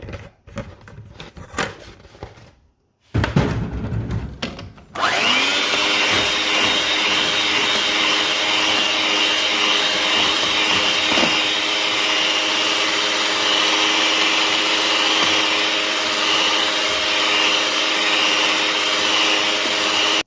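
An electric mixer whirs steadily through carrot cake batter after oil has been added. A few short bursts come first, then a loud, continuous motor drone runs alone to the end.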